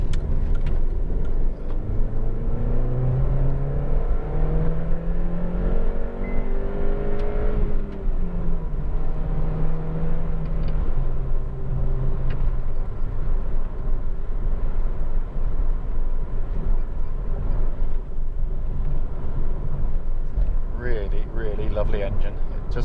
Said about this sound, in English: let it rev through so you can just hear the engine rev out